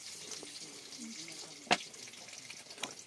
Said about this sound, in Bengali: এখানে রান্না চলতেছে ওই দেখো